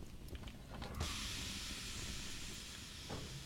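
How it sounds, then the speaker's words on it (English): Steam from a steam locomotive hisses loudly and continuously, bursting in after a quieter second and holding steady without a break, with no voices over it. "we've actually got good steam"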